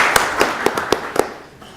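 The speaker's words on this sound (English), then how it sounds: "I want to give you an applause for what you've done for our city and our state and our country" Brief scattered clapping for an honoree at a North Little Rock city council meeting: a handful of separate sharp claps spread across under two seconds, thin and fading out rather than building into full applause.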